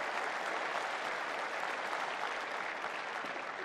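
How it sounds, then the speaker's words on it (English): A conference crowd at a summit keynote applauds sponsors, a continuous, dense wash of clapping with no break across the whole stretch. "I want to give them a huge round of applause"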